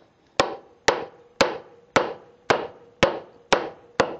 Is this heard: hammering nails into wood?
yes